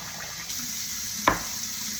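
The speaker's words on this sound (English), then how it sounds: "I'm gonna use now a little bit of water, but it has to be hot to warm water" Warm tap water runs in a kitchen while bread dough is being made, a faint, steady hiss with a single short clink partway through and no voices.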